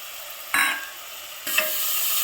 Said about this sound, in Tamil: நெய்யிலேயே அரிசியும் கேரட்டும் போட்டு வதக்கியிருக்கேன்